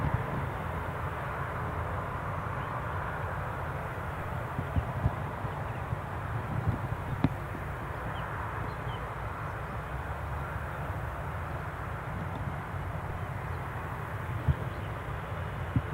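At Newcastle International Airport, a distant aircraft engine starts up by the business terminal, a low, steady rumble with a faint whine, heard far off under light wind and outdoor background noise.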